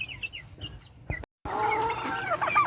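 Free-range Rhode Island, Silkie and Black Australorp chickens cluck and call close by in a ranging area, with scattered clucks and a short cut before a louder, busier stretch of flock chatter.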